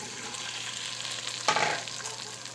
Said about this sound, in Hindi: लाइट ब्राउन होने तक फ्राई करेंगे